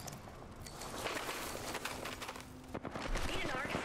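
Rapid gunfire bursts in an Apex Legends match crackle continuously alongside in-game footsteps and effects, with voices talking over the action.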